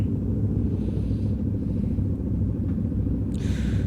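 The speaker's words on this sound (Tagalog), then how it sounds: "ingay ng motor" A steady, loud low engine rumble drones throughout, close by, with a brief brighter hiss near the end and no talking.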